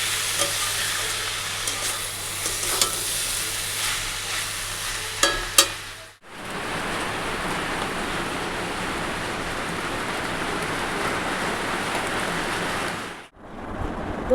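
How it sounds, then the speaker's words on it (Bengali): Ash gourd pieces fry in a pan with a steady, broad sizzle that runs loud for most of the stretch, with faint clinks early on and a short break near the end before the frying resumes. "আর এই যে চাল কুমড়ো ভাজা হচ্ছে।"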